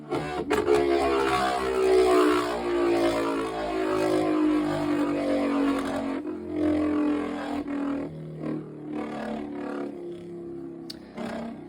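A Beyblade Burst GT Zwei Longinus on a Spiral Dash driver spins in a DB stadium, giving a steady, loud whirring rattle that holds for several seconds and then turns choppier with scattered clicks and knocks as it slows.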